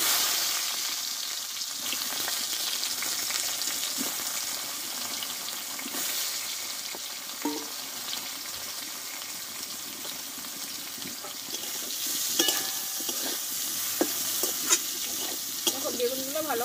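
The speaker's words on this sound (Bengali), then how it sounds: "বেগুনগুলোকে আমি ভেজে নেব।" Eggplant pieces fry in oil with a continuous sizzling hiss, punctuated by stirring scrapes and light utensil taps, close up and without speech.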